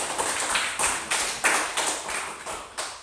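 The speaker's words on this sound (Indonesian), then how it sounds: "Ayo mari kita memberi tepuk tangan kepada mereka." A fifth-grade religion class claps in a rhythmic pattern, a handful of sharp, evenly spaced clap bursts close by, moderately quiet, with no talking.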